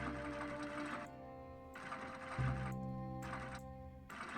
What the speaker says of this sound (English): All I need is the dress Jim Archer gave me, and I can start sewing.